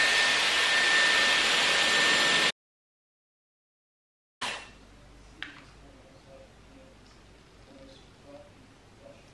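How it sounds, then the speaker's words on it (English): A Dyson Airwrap hair styler blowing on highest heat and highest fan, a loud steady close rush of air for a couple of seconds, then cutting off abruptly before quieter handling noises. "So I turn it on, highest heat, highest fan."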